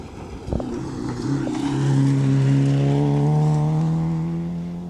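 A Peugeot 205 rally car on a technical stage corner in the Scottish Championship, heard after a brief thump as its engine note climbs and holds a loud, rising tone as it accelerates away.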